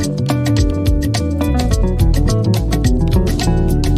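Keyboard playing a fast ascending and descending run in a guitar-solo style, loud and continuous with dense rapid notes over a sustained low accompaniment.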